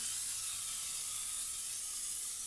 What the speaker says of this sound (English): We're going to spray a little bit of olive oil on there